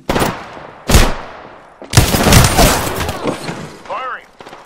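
Loud, close gunfire from the video game Apex Legends comes in several separate booming shots and bursts with sharp attacks and rumbling tails, with game voice lines mixed in among the shots.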